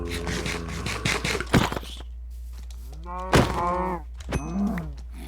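A cow in modded Minecraft (All The Mods pack) lets out a few groaning, harmonic moos mixed with thunking hit and scrape effects, fairly close, with no talking over them.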